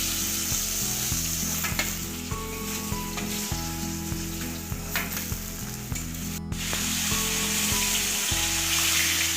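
Rohu fish pieces frying in oil for a festive spicy fish curry, a loud steady sizzle close by with stirring scrapes and clatter, accompanied by background music with a regular beat.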